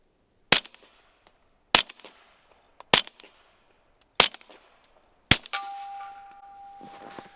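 Four suppressed 9mm subsonic pistol shots through a Dead Air Primal suppressor, sharp evenly spaced cracks each with a ringing metallic tail, followed by a fifth impact and a longer ringing decay, close and loud.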